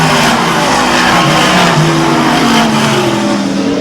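Dirt modified race cars roar past at Airborne Speedway in Plattsburgh, New York, a dense, continuous wall of engine noise with overlapping revving motors throughout.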